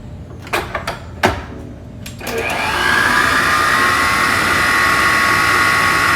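An electric mixer runs at medium speed, blending flour into dough with a steady, loud whirring hum after a few knocks and clatters at the start.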